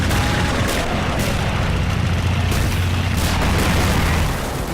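Guns and tanks firing in the World War II strategy game Men of War Assault Squad 2, a dense continuous barrage of booming cannon shots and rattling gunfire layered over rumbling battle noise.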